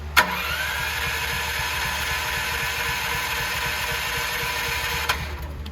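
A standby generator engine cranks and catches with a sharp burst, then settles into a steady, loud mid-pitched running drone, with another brief click near the end.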